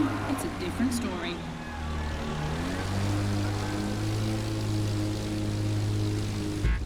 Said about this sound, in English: Unsurprisingly, the AGP has the advantage on startup, but once the plane is airborne, it's a different story.